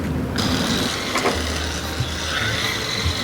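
A BD10F front-wheel-drive RC drift car runs on rubber touring-car tires, its drivetrain giving a continuous whirring, ratchety mechanical buzz with small clicks, close and fairly loud.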